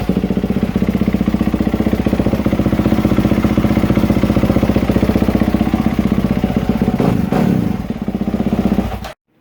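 A Kawasaki KX450 dirt bike engine runs close by with a loud, fast, even putter. It dips briefly near the end, then picks back up before cutting off abruptly.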